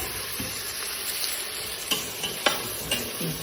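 A ground paste of garlic, ginger, coriander, mint and green chili frying in a pan, a continuous hiss with light stirring scrapes and a few spoon clicks, close and without speech.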